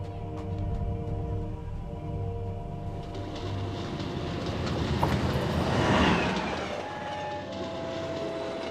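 A Magno train in a cartoon runs steadily with a rumbling, rattling rail sound, a low hum early on and a swelling roar midway, heard alone at moderate level.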